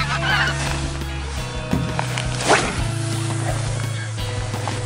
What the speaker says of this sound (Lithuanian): Atsisveikina, žąsis išskrenda.